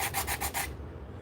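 A plastic model part is sanded and filed with steady back-and-forth rasping strokes, about five even rubs close up before stopping abruptly into silence.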